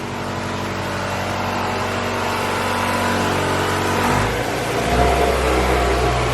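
Honda B18 car engine with new injectors, revving in a shop: a steady mid-pitched idle that climbs in a brief rev toward the end, heard close and alone.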